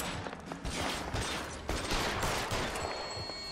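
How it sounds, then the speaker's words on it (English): Gunfire in the video game L.A. Noire: a quick series of sharp, loud shots crackling over a busy, noisy background, with bursts spaced irregularly across a few seconds. "Three shots is enough, right?"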